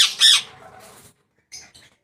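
A grey parrot from a breeding pair gives a loud, harsh squawk up close. After a short silence, a shorter, fainter squawk follows.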